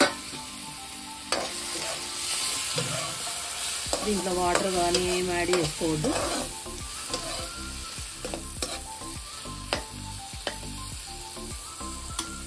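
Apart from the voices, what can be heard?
onion and tomato frying in a little oil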